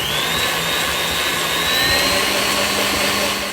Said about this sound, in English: We're going to whisk this in as well.